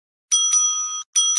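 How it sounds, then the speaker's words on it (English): A timekeeper at a school English debate rings a bell twice, two bright sustained rings separated by a short gap, loud and close with no talking. "The timekeeper will ring the bell once to show the start of the preparation time"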